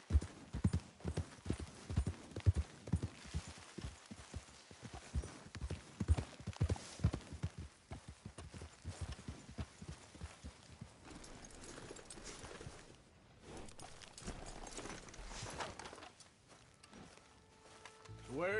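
Horse hooves clip-clop steadily while riding in Red Dead Redemption 2, a quick, rhythmic run of close hoof beats that eases off into a slower, softer gait later on, with faint ambience around it.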